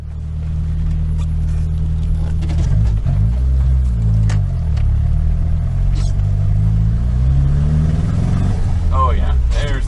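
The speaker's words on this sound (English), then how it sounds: "here's a clip of the car running down the driveway yesterday" A Nissan 200SX engine running loud and close as the car rolls down a driveway, a steady low rumble with uneven rises and dips in revs and a brief sharper burst near the end.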